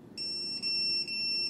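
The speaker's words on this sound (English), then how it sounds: "The other mode sounds an alarm and lets your emergency contacts know you need help." Athena wearable safety device alarm: a shrill, piercing electronic tone pulsing in long, steady bursts with brief gaps, loud and close with nothing else heard.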